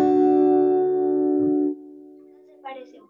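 A guitar chord strummed and left to ring, fading slowly, followed by a second, lighter strum near the end.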